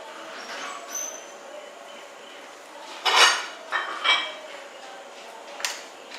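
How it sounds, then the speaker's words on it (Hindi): Chicken pieces go into a cooking pot for achar gosht, making a few distinct thuds and rattles around the middle and near the end, with light metallic clinks against a quiet kitchen background. "अब मैं इसमें चिकन डालूँगी।"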